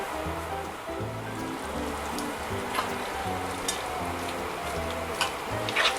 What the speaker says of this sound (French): Là, on fait mijoter tranquillement.